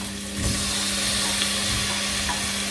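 Tomatoes go into a Slovak-style stew already sizzling in a pan and get stirred, with a steady, close, loud frying hiss and faint scraping of the stirring underneath.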